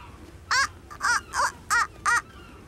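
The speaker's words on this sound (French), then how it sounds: "Oui, ce sont des mouettes." Seagulls calling near a ferry, five loud harsh cries in an evenly spaced series, each short and sharp over a low background hum.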